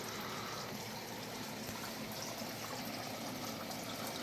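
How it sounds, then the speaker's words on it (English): A cleaned-out creek flows steadily, a continuous faint wash of running water with no breaks and no voices. "cleaned out the creek a little bit yesterday. Everything's flowing pretty good."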